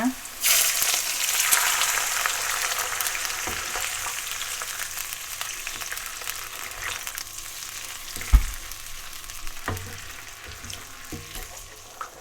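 Water splashed into a hot pan of stir-fried Korat rice noodles bursts into a loud, hissing sizzle that settles into steady frying, with occasional spatula knocks and faint speech.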